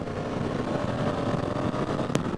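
A DCT motorcycle accelerating on the road, a steady droning engine with wind rush throughout and a brief sharp blip near the end.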